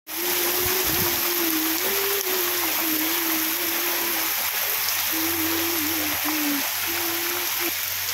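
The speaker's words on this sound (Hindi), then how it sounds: "इतनी तेज़ बारिश है कि क्या ही बताऊँ" Heavy rain pours down on a village, a loud, steady, dense hiss that fills the whole stretch, with a sustained droning tone wavering over it throughout.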